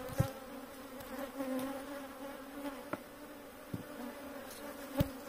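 Honeybees swarm and buzz steadily around an opened hive during a honey harvest, a close, continuous insect drone with a few sharp knocks and taps mixed in.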